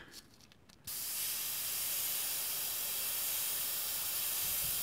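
After a brief quiet moment, an airbrush starts spraying paint for scale modeling with a steady, bright hiss that continues evenly.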